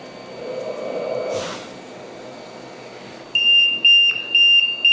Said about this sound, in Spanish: El ventilador nos demuestra a través de la alarma